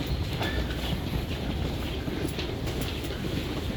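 A train moves through a Toronto station with a continuous low rumble and faint rail clatter, steady and close, with no talk.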